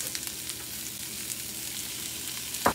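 Halved boiled potatoes sizzle in butter in a frying pan, a steady close crackle with a brief louder stir or clatter near the end, no voices.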